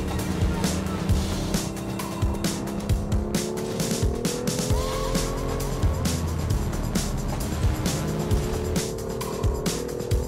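BMW M2 Competition sports car being driven, a loud, close engine drone with rising and falling revs and tire noise, and a voice talking briefly over it.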